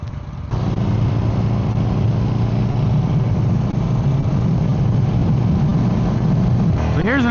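A Yamaha V-Star 950 motorcycle engine pulls hard under aggressive acceleration, a loud steady low roar sustained throughout, with a rising whine near the end.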